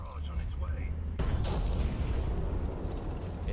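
Tank gunfire booms in the video game War Thunder, one heavy close blast that cuts through quieter ambient rumble and leaves a rolling low tail.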